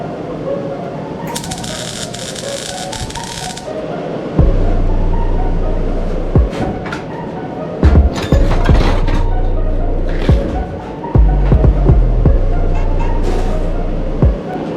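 MIG welding of stainless O2 bungs onto an old Ford Taurus exhaust comes through as three buzzing, crackling bursts separated by short pauses, heard up close.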